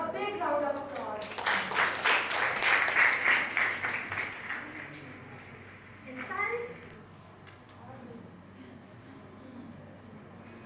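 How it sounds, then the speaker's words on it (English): An audience at an inter-school declamation competition claps in a dense burst of applause lasting a few seconds, fading to scattered claps, then a second brief round of clapping, with children's voices chattering around it. "please give them a big round of applause"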